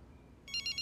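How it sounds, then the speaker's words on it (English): A telephone rings in bursts of an electronic ringtone, close and clear, starting partway in after a quiet room and sounding in three evenly spaced pulses. "Mitchell, answer the phone"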